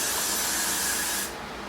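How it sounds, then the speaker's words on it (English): Freeze spray hisses onto a wig cap in one steady, close burst of about a second and a half, then cuts off into quiet. "I'm gonna spray a little freeze spray on your cap just to get it sticky"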